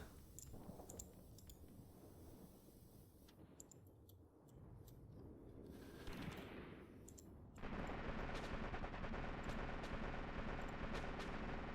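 Rapid bursts of machine-gun and rifle fire crackle through a Graviteam Tactics battle, sporadic shots giving way to a dense, continuous barrage near the end, with no talk.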